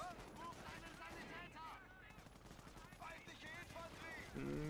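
In the Company of Heroes strategy game, machine gun fire rattles in rapid bursts amid constant battle noise, with other gunshots and explosions mixed in at a moderate level.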